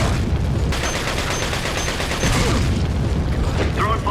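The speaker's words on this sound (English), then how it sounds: "Throwing flashbang." Flashbang grenades going off repeatedly in a Resident Evil game, loud booms and crackling bursts over a dense, continuous battle din with mechanical clatter, voices mixed in.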